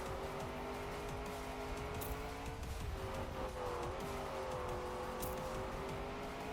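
Race car engine in Trackmania 2020 on a desert track, droning steadily with shifting pitch and occasional tire noise, loud and continuous throughout.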